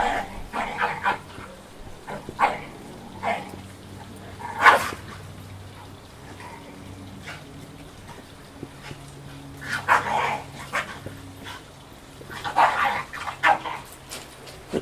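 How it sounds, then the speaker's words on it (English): Dogs, one of them a female likely going into heat, barking, yipping and snarling at each other in repeated bursts clustered at intervals, fairly close, with whimpers and quieter stretches in between. "They're barking at each other because I think the female is going in heat"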